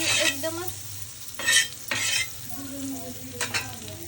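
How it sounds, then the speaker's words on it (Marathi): Butter sizzles on a hot griddle for pav bhaji, a steady close frying hiss with occasional louder scrapes and clinks of a spatula, no talking. "आपण या ठिकाणी बटर लावून घेणार आहोत मस्तपैकी"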